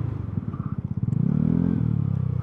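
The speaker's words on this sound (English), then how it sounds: "It's kind of hilarious to lock up the rear wheel on this thing." A Ducati Panigale V2 motorcycle skids on its locked rear wheel in a construction area of Miami, a rapid juddering chatter of the tire that smooths into a short sustained scrub, close and moderately loud.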